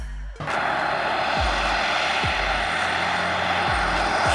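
A seaplane's propeller engine roars up suddenly after a short quiet start, then holds as a steady, loud, close drone with a rhythmic throb, with no voices.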